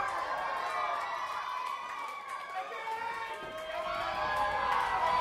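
Arena crowd at an APW 2015 wrestling championship match between James Shaw and Roddy Gunn, roaring and cheering steadily and loudly throughout, with a commentator talking over it.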